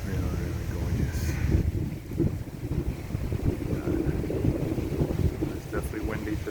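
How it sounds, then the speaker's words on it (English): Strong wind buffets the microphone at a hilltop viewpoint on the Milford Knob trail, a steady low rumbling roar with gusty surges throughout. "It's definitely windy today."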